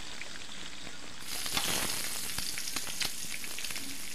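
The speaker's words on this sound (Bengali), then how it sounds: "তো আমি জাস্ট একটুখানি হালকা নেড়ে চেড়ে এগুলোকে ভেজে ভেজে নিচ্ছি।" Boiled eggs frying in hot oil sizzle softly, then swell into a brighter, busier crackle after about a second, with faint pops and stirring scrapes close by.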